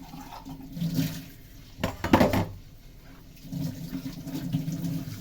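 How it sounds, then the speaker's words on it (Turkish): Dishes being washed by hand under a running tap, water gushing in uneven swells with clinks of plates and cutlery and a louder splashing burst midway. "Ne çıkarsa çıksın hemen anda yıkayacağım bu şekilde."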